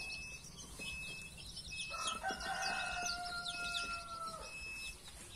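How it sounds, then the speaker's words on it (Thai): Chickens on a Thai poultry farm raising chicks, with a rooster crowing in the middle and hens clucking and chirping around it, moderately close over a faint background. "วันนี้ก็เริ่มได้ลูกไก่เยอะแล้วนะครับ"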